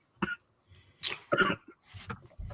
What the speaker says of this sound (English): I hear you coughing over there